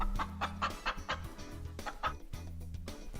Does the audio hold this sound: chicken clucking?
yes